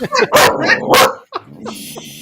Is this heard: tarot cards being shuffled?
no